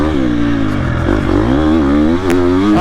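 A Triumph TF250-X off-road motorcycle ridden on dirt: a loud, close engine revs and rises in pitch as it accelerates, with a brief dip between throttle bursts and a light mechanical clatter.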